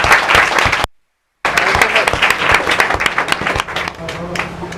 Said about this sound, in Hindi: जोरदार तालियां विकास विश्वकर्मा के लिए जोरदार तालियां